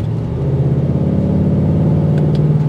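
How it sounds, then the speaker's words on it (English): A 2024 Ford Mustang GT convertible with the Coyote V8 and active exhaust rumbles steadily, a deep continuous engine note that stays loud and even throughout, with no talking. "you're always going to hear that exhaust note when you have the active exhaust"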